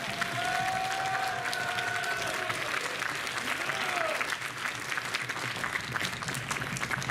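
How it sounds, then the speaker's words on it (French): Sustained audience applause at the end of a cosplay contest at a brony convention, a dense steady roar of clapping with some cheering and a faint voice drifting over it. "je vous demande de faire un tonnerre d'applaudissements pour le docteur"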